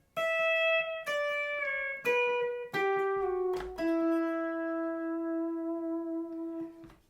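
A pedal steel guitar plays a slow descending phrase of several sustained, gliding notes, each attack ringing into the next before a long final note fades out.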